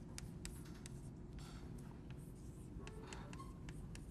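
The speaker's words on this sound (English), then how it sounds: "let me actually write this out" Marker or chalk writing out notes on a board during a university algorithms lecture, a steady run of short scratchy strokes over a low room hum, with no talk.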